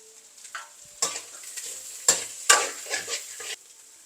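Onion, green chili, curry leaves, carrot and leeks are stirred in a hot pan, giving several scraping stirs in bursts over a light sizzle, close up and with no voices.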